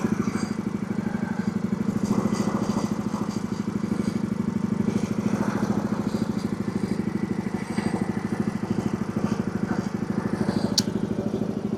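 A lawnmower engine runs steadily nearby outdoors, a loud, even chugging putter with a little rattle and no pauses throughout.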